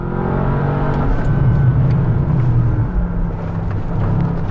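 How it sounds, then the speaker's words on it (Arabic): A 2023 Bentley S with active all-wheel drive launching hard at Goodwood, its engine a loud, close, continuous roar that swells as it accelerates and holds strong to the end. "حضروا حالكم جو ولانش كنترول."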